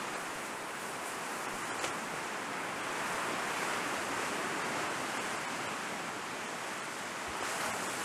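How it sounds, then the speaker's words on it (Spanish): Sea waves roll onto the shore at dawn in a constant broad wash of surf, swelling slightly midway, with a light rush of wind and no voices. "el propio ritmo del vaivén de las olas del mar."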